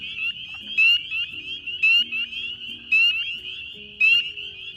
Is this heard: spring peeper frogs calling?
yes